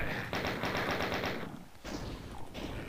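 Chaingunner enemies fire in the Doom video game: a rapid, evenly spaced burst of gunshots for about a second, then a pause and two more short bursts, loud and close.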